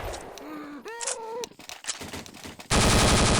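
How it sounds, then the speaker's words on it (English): An M249 machine gun in the Counter-Strike video game opens up during a final-stage boss fight, its loud, dense rapid-fire burst erupting abruptly in the last second after quieter mixed game sounds with sweeping tonal effects. "a machine gun now, M249."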